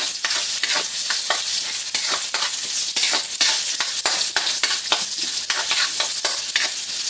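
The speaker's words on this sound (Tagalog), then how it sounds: "Fry muna natin ng kaunti ang ating siomai bago tayo mag-isa" Siomai fry in hot oil with garlic, onion and ginger, a loud, dense, continuous sizzle crackling close up, with occasional sharper pops and stirring clicks.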